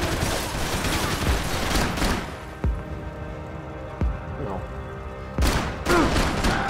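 Enemy gunfire erupts in Max Payne 3, a dense volley of shots followed by several sharp single cracks spaced a second or so apart, with a final burst near the end.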